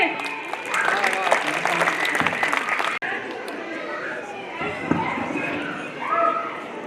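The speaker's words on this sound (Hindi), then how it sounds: "सबकी तालियों में जोर तो होना चाहिए" Audience applause at a school festival, a dense burst of many hands clapping with children and chatter in the background, breaking off partway and settling into a looser, noisier crowd murmur.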